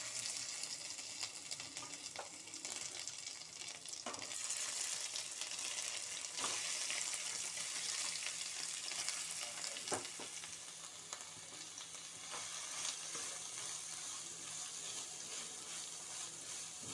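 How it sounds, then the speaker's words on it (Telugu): Steady frying sizzle of food in ghee in a pan, continuous and fairly close, with a few faint utensil knocks and scrapes. "ఇది నేను ఫ్రై చేస్తున్నాను"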